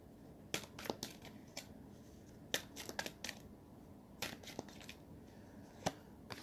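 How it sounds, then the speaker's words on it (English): Tarot cards being shuffled by hand, a series of quick crisp riffling and slapping bursts in irregular clusters, close and fairly quiet, with no talking. "let me do some shuffles here."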